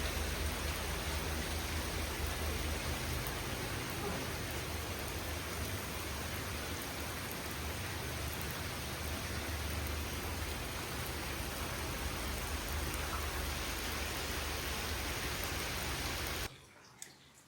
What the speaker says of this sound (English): lots of rain, so we're gonna go check on the animals in the rain